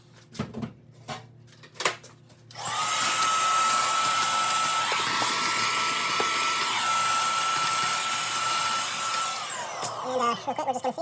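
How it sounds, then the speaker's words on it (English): A shop vacuum cleaner switches on after a few clicks and knocks, whining loud and steady for about seven seconds, then winds down while small handling sounds follow. "Grab the vacuum."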